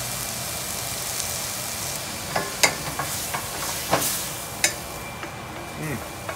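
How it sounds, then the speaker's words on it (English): Shallots, mushrooms and bok choy cooking in a pan, a soft steady sizzle with scattered sharp clicks and scrapes of stirring, close by and without talk. "Love the way shallots cook up, mushrooms and the bok choy."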